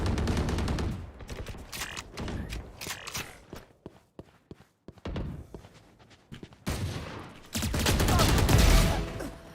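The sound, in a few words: gunfire from a gun in a video game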